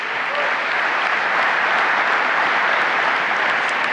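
Steady, dense audience applause fills a large conference hall at a software company's keynote event, loud and unbroken from start to finish with no talk over it.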